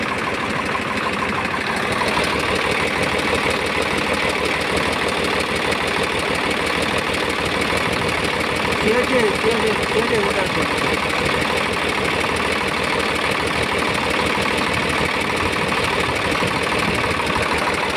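A 2005 Swaraj 855 tractor engine idles steadily with a loud, even diesel rumble and a faint knock, running without pause while someone talks over it now and then.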